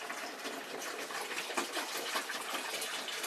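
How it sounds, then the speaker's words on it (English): Water is poured a gallon at a time into a home-brewing beer kit, a steady close splashing gush that runs for a few seconds without talk. "I'm just adding cold water or warm water, 1 gallon at a time"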